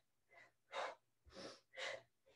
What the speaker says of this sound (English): This is where my breathing gets faster. I'm exhaling every time I pull my knee up.